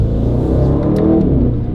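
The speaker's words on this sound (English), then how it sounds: "You're still going to hear these crackles." Aston Martin Vantage Roadster engine rumbling loud and close, a steady exhaust drone with a few brief sharp crackles popping over it near the middle.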